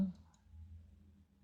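A single faint, brief computer mouse click sounds near the start while building an Omron PLC ladder program, followed by quiet room hum.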